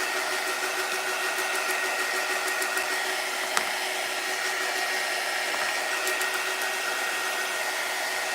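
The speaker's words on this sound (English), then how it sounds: "You can even use the hair dryer to dry these up." A hair dryer runs steadily at close range while drying homemade herb garden markers, a constant whirring blow with an even hiss that holds the same level throughout, with no talking.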